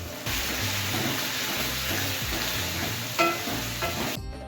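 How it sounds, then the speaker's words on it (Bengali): Onions and tomatoes frying in oil with a pinch of salt, making a steady close sizzle under rhythmic stirring and scraping strokes throughout. "সামান্য নুন দিয়ে ভালো করে ভেজে নেবো পেঁয়াজ আর টমেটোটাকে"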